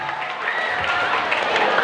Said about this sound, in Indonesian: Oke, tepuk tangan buat semua.